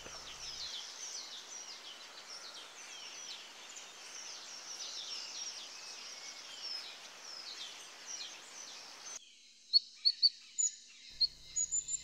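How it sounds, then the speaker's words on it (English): A fire-tailed sunbird chirps in Himalayan forest near Neora Valley, Kalimpong, high thin calls repeating over a steady insect-like hiss, then a few sharper, louder separate chirps near the end. "First to appear was a fire-tailed sunbird that danced and chirped its heart out."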